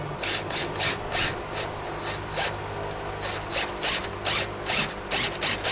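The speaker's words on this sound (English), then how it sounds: "this will just pull the bush out into this socket if I've got it going the right direction" A nut is wound with a hand tool onto a puller that draws a polyurethane steering rack bush from a Toyota Altezza into a socket, giving a steady series of short rasping ratchet strokes, close and fairly quiet, with no talking.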